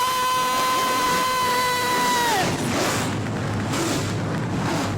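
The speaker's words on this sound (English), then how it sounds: "Drivers, start your engines!" Several super late model race car engines fire up together at a short-track event, a loud dense roar swelling out of a fading tonal whine and staying thick and continuous, with no talk over it.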